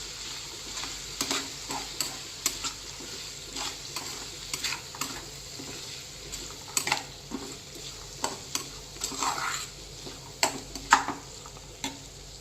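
Half a spoon of turmeric is fried and stirred in an oil-filled pan for a wedding-style eggplant and chana dal curry, with a low steady sizzle broken by repeated sharp scraping strokes of a spoon at an uneven rhythm.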